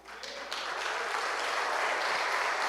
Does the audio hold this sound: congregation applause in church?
yes